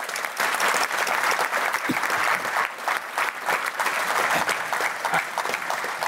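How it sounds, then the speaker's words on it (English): Conference audience applauding at a security event closing session, steady dense clapping sustained throughout at moderate distance, no voices on top. "round of applause for you, for coming and supporting it"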